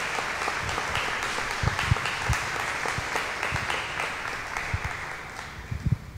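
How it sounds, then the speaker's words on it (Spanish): An audience claps in welcome at a Christian talk on gender ideology, a sustained wash of applause with scattered louder individual claps, fading slightly toward the end. "Un aplauso de bienvenida también para ella."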